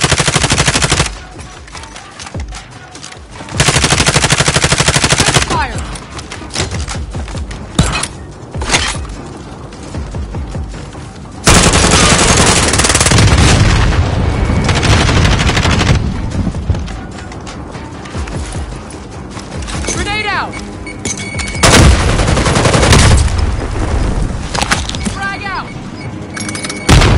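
Heavy gunfire in Call of Duty Warzone on the Verdansk map: repeated loud bursts of automatic fire and single shots, with thuds and dull booms and voices talking between the volleys.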